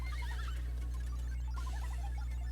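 Horse in the video game Miitopia gives a faint, warbling whinny, two short rising-and-falling bursts over a low steady hum.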